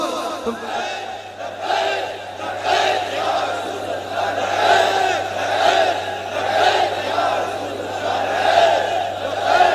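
A large crowd at a religious gathering chants the slogan Labbaik in unison, a loud, massed roar of voices rising and falling in rhythmic waves.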